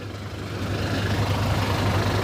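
A vehicle engine rumbling low and steady as it drives through village mud, a dense heavy drone that swells slightly and stays loud, with no voices.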